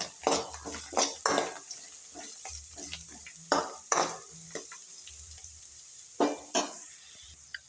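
Onions are fried in a pan while making masala upittu. Rhythmic stirring scrapes and clinks of a spoon against the pan come in bursts over a soft, low sizzle.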